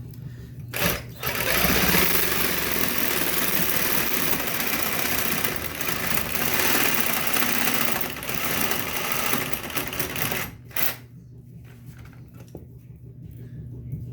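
A saw blade cutting through a toilet bolt during a toilet replacement, giving a steady, close, rasping grind for most of the clip, then stopping before a quieter tail.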